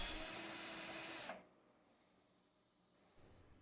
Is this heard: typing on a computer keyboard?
no